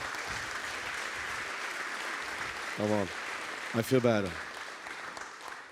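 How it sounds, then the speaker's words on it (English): A conference audience applauds at the closing ceremony of the Ethereum Community Conference, a broad even wash of clapping throughout while someone speaks briefly over it on a microphone. "It's like you're applauding me, but you should be applauding yourself"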